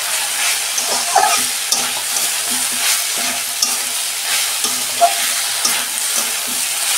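Noté shak greens are fried in a pan and stirred over and over, with rhythmic scrapes and taps of a spatula over a close, continuous sizzle.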